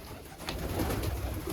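Pigeons, Iraqi breeds kept in Germany, cooing in soft low repeated calls, close by, with a faint background hiss and no voices.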